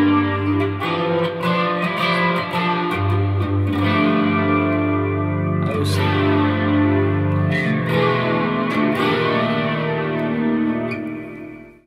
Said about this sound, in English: let's hear a flanger.